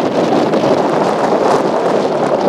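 Heavy wind roars steadily across the microphone at Fort Myers Beach Pier, a dense, constant rushing with no voices.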